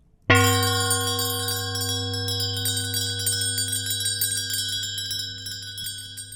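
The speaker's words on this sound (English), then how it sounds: "Soon it rang out loudly, and so did every bell in the house." A single bright bell strikes loudly and rings on, its sustained metallic tones slowly fading with slight shimmering overtones.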